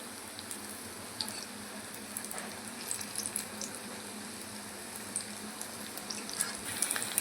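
Onion petal chops frying in oil as they are turned over in the pan: a soft, steady bubbling sizzle with small crackling pops, fairly quiet and without talk.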